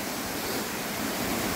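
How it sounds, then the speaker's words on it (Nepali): A waterfall on the Bhurjung Khola roars as a dense, steady rush of falling water, loud and continuous with no voices. "तर झर्ना चाहिँ दामी छ।"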